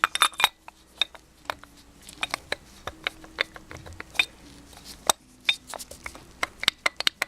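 A carburetor float bowl being fitted back onto a Suzuki GS1100E motorcycle carb; sharp, irregular metallic clicks and light taps of small parts, close by in a quiet room, with no voice.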